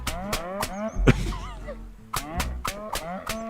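A cow in the video game Thank Goodness, You're Here! lets out a long, low moo, set against a steady, repeating rhythmic tapping beat that continues before and after.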